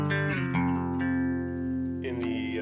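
Scythe OH10 electric guitar on its middle pickup through a Two-Rock Classic Reverb amp, clean notes and chords ringing with a few new attacks across a short passage.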